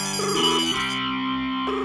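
A phone rings with an electronic ringtone, a bright tonal melody stepping between pitches, loud and close, playing on with nobody answering.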